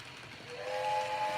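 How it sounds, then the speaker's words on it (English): UK train whistle, a short shrill steam-type blast with a breathy hiss that settles into a steady high two-tone whistle, heard alone and close. "Do we want to listen to the UK whistles"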